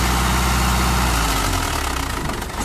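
A Swaraj or Ford 3630 tractor engine runs loudly at close range during a brick-hauling tractor challenge, a heavy continuous rumble that shifts into a pulsing chug near the end, with no talking.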